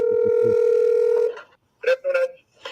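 A telephone dial tone opens a recorded call to a tow company, holding steady for over a second before breaking into short electronic bursts.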